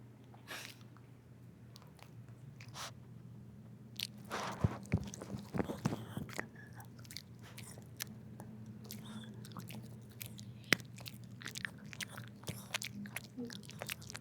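Someone eats home-cooked food quickly, with irregular close crunches, bites and chewing clicks scattered over a low steady hum, denser in the middle and continuing to the end, with no talk.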